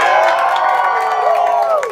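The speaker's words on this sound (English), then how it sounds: "you guys are all going to be cheering for logging camp 13 today" An outdoor lumberjack show audience cheering loudly and continuously, a dense crowd of whoops, shouts and children's voices sustained for the full two seconds before starting to fade.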